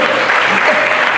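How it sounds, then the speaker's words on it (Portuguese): Applause from a church congregation during a sermon, a dense, steady wash of clapping filling the space for a short burst. "dá uma salva de palmas para Jesus"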